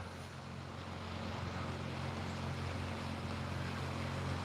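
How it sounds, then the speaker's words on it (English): A distant boat engine drones steadily on open water on a stormy evening, a faint, continuous low hum that never changes and plays with no voices over it. "Must be a boat."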